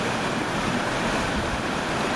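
River water rushing hard at a favorite swimming spot during the spring thaw, a dense, steady roar of fast current with some wind buffeting, loud and close throughout with no voices.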